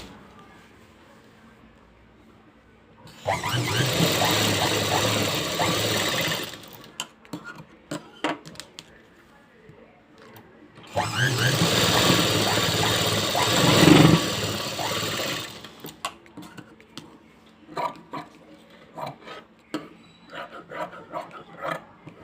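A sewing machine stitching blouse fabric in two bursts of rapid mechanical whirring, each lasting a few seconds, separated and followed by quieter clicks and handling noises.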